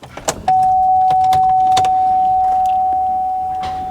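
A 2003 Hummer H2 with an LQ4 engine starts up: a few quick clicks, then a loud, steady mechanical whir that holds evenly to the end, close by with no talking.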